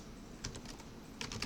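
Quiet keystrokes on a computer keyboard land in a couple of short bursts, a few taps at a time, close by in an otherwise still room.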